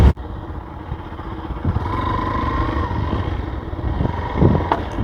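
A motorcycle rides along a rough, damaged road, its engine a steady close drone with road rumble and clatter that swell slightly near the end; no one talks.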